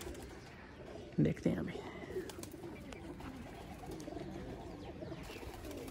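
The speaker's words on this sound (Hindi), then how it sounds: "देखिए कितना ज़्यादा कबूतर है" Pigeons coo softly from a rooftop where a kept flock gathers, a couple of close low coos standing out over a faint background, with someone talking briefly.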